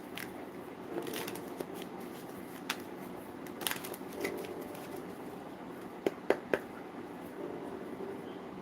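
A deck of tarot cards is shuffled by hand, giving soft riffling and sliding rustle with occasional sharper snaps and clicks. The sound is close and steady throughout, with no voice over it.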